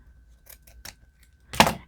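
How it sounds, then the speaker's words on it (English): Paper scissors trimming excess paper from a handmade journal cover, a few quick soft snips followed by one louder, sharper cut near the end, close and with no talking. "we got to get our paper scissors and trim off this excess here"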